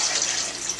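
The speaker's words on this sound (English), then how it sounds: "So I'm just going to put all that broth right into" Broth poured into a crock pot for beef stew, a steady close splashing pour of liquid that runs continuously without pause and with no voices.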